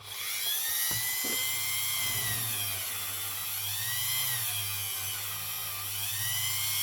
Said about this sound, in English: let's break out. Dave the Dremel